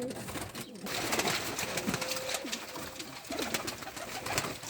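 Ödemiş kelebeği breeding pigeons in a loft, cooing close by in soft repeated low calls, with wing flutters and background noise.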